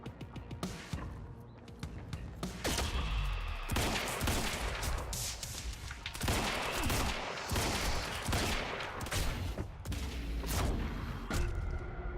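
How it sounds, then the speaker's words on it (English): Sniper fire and a dense firefight in the action game Quantum Break, with sharp cracks and heavy booms piling into a continuous loud barrage for about twelve seconds and no talking. "Snipers!"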